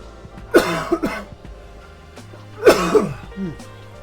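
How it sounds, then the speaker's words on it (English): Two harsh, close coughing bursts from a throat tickle, each a quick cluster of rough barks, separated by a short quiet pause. "You just cough until you actually get rid of the tickle"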